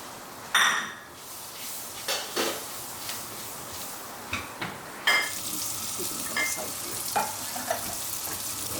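Onions going into hot oil with mustard seeds and curry leaves for sambar, sizzling and crackling close up with sharp spluttering pops and occasional clinks of a pan or utensil.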